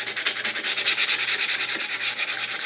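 Scuff sanding of a Zpoxy pore-fill finish on guitar wood, close and loud, with a steady back-and-forth rhythm of rasping strokes and no voices.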